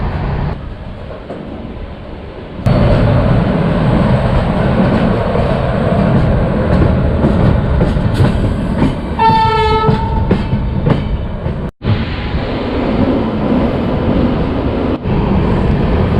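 The Howrah-Puri Express runs at speed, a loud continuous rumble and rattle heard from inside a sleeper-class coach, with a horn sounding briefly partway through and no talk.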